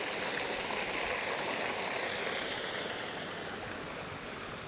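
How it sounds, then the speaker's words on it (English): Steady rush of a stream's water trickling and burbling close by on a countryside walk near Crich, Derbyshire, a continuous broadband wash with no voices. "The sound of trickling water."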